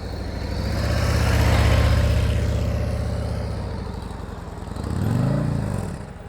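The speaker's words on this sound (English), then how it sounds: "You heard the throttle going down a little bit" A motorcycle engine drones close by during slow-speed riding practice, holding a steady low throttle before easing off and then briefly revving up again near the end.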